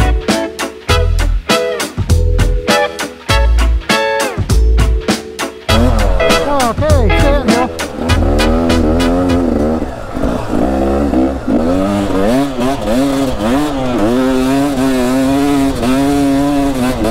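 An off-road vehicle engine revs loudly while climbing a steep forest hill, the note surging, warbling up and down and straining continuously. Engine noise dominates with no talk.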